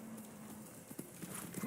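Nobu the horse in Ghost of Tsushima moves with a few soft clip-clop hoof strikes over a quiet ambient bed, the steps sparse and fairly faint rather than a full gallop.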